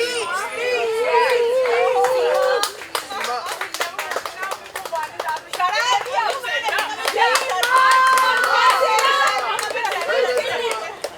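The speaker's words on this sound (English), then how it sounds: "Everybody, please clap for" Scattered clapping breaks out at a health awareness event attended by TV actresses, mixed with lively chatter and children's voices. The claps come as bright, uneven bursts and never fully drown out the talk around them.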